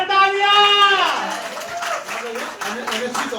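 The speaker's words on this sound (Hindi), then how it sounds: "एक बार सर के लिए एक बार जोरदार तालियां" Audience applause for a man being honored at a gathering: a dense patter of claps that rises after a held tone fades and continues steadily, with a voice speaking over it.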